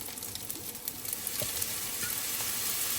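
Spicy egg fried rice sizzling in a hot pan as fish sauce and chili hit it, a steady hiss that swells slightly louder toward the end, with a few faint scrapes and no talk.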